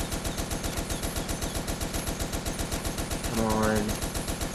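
Rapid, steady machine gun fire from the video game Toy Soldiers War Chest hammers on without pause, with a brief burst of louder effects near the end, while a player talks over it.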